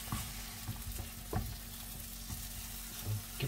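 A grilled cheese sandwich sizzles quietly and steadily in a frying pan, with a few faint taps and scrapes over the hiss and no talking.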